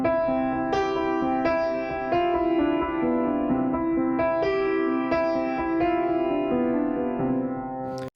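A studio-produced melody with non-chord notes adding friction is played on a plucked, bell-like synth over sustained chords, each note striking brightly and decaying, in an even rhythmic line with no voices.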